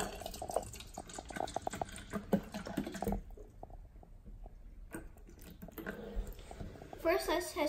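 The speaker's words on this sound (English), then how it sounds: "Let's pour some water in." Sepinia mineral water from Italy poured into a container, a light trickling splash with soft clinks, fairly quiet and close, breaking off briefly midway before resuming.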